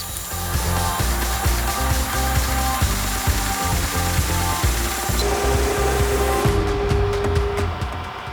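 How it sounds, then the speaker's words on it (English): A direct-to-garment printer runs a print on a hat mounted on its platen, giving a steady mechanical clatter of carriage and rollers, with a sustained whirring tone joining midway and fading near the end. "Now just put the platen on the master adapter, and hit print."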